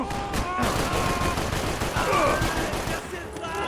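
Max Payne 3 gunfire from a first-person mod comes as a dense run of rapid shots and bursts, with a groaning voice woven through the action.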